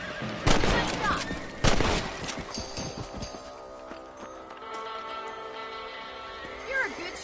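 Gunshots fired at rabbits in Red Dead Redemption, two sharp loud cracks in quick succession near the start, followed by quieter outdoor ambience with horse sounds and a voice speaking.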